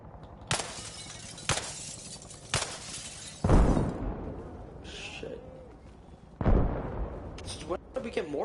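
Mines detonating in a multiplayer war video game, like incoming mortar fire: a series of sharp, loud blasts with crackling debris, two heavier booming explosions standing out, spaced irregularly with quieter battle noise between.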